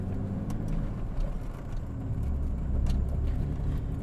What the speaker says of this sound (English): When I'm ready to go, I'm going to put it in first and start driving again.